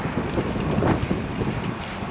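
Strong headwind of about 22 mph with 33 mph gusts buffets the microphone on a bike ride, a continuous loud rushing roar that swells slightly and never lets up, with no talk.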